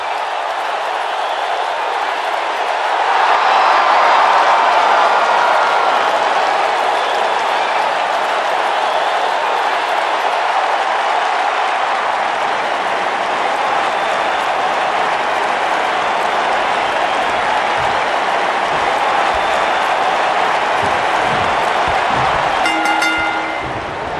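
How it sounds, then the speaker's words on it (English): A large wrestling arena crowd in the video game WWE 2K19 roars and applauds continuously, a dense wash of cheering that swells early and holds steady throughout. "And Michael, it sounds to me like this crowd already picked the one who they want to win this match."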